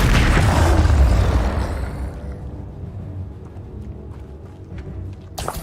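A Confringo blasting spell explodes in the video game Hogwarts Legacy: a loud, booming burst that rolls off into a long, fading rumble, with a faint crack at the end.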